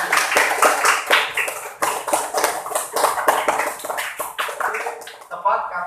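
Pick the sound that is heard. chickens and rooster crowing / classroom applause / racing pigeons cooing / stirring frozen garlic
classroom applause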